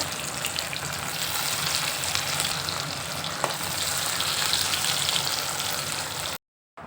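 Small fish fry in hot oil in a wok, making a continuous close crackling sizzle that holds steady for several seconds before cutting off abruptly near the end.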